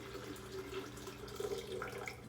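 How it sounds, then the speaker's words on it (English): About four cups of heated water pour into a kitchen container with a soft, steady trickle, quiet and close, with no talk. "So I'm going to go ahead and put my water in."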